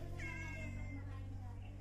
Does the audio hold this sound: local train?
no